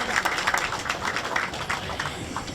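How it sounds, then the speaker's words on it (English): A St. Patrick's Day parade crowd in Newark claps and cheers for firefighters and police officers, with scattered applause and raised voices from a moderate distance. "let's give a round of applause to all the firefighters and the police officers that do the great job here for this community"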